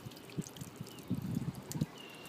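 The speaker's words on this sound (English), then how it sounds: "when you pour water on the truck, you see the water deflecting right off that little finger" Water poured onto the body of a 2015 Chevrolet Colorado pickup truck splashes and drips in soft, uneven bursts, quiet and close.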